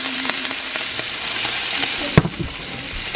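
Meat sears in a hot pan coated with sesame oil, a loud continuous sizzle and crackle close by, with a sharp knock of the pan or utensil partway through.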